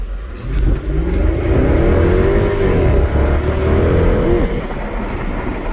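A 2010 Jaguar XK R with a supercharged 4.2-litre engine accelerating, heard from the cabin as a loud, close engine drone that rises in pitch, then settles as the car holds speed.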